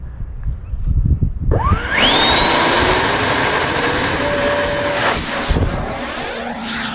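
A large RC Viggen model jet flying 3D aerobatics, its turbine spooling up into a loud rising whine that holds steady and then shifts as it passes, heard outdoors with wind buffeting at first and no speech.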